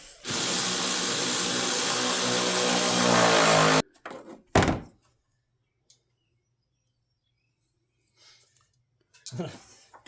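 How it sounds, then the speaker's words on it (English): A shin knocks against a short step stool in a garage during a radiator change on a Dodge RAM 1500: a loud, steady whirring noise cuts off, then a single dull thunk is followed by faint, scattered shuffling. "My camera lady racked her shin on my short guy step."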